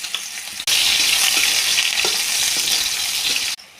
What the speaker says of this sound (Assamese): পিঁয়াজ দিছোঁ।